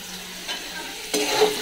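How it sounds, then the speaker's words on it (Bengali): Potatoes fry and sizzle in a pan while being stirred, a close hissing crackle with scraping stirs, growing louder in the last half second. "এই আলু ভাজছি"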